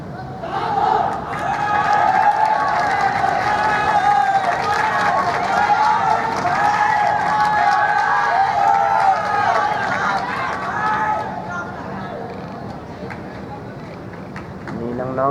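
School supporters cheer and clap at an under-18 school football match, a constant, fairly loud crowd roar that fades slightly toward the end, with an announcer talking over it.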